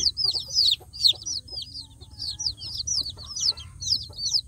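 Free-range village chicks peep and cluck in a rapid, continuous high chatter while eating together, close by over a low background hum.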